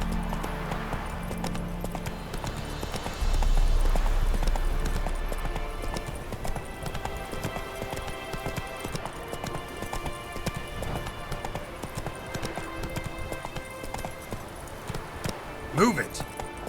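Horse hooves clip-clop at a gallop in the video game The Witcher 3, a fast steady beat under a game soundscape, with a voice speaking over it.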